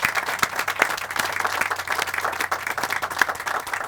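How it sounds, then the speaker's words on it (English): An outdoor crowd at a historical highway marker dedication at Pocahontas State Park claps steadily, with individual sharp hand claps standing out from a continuous round of applause close by. "So if you'll join me in giving them a round of applause."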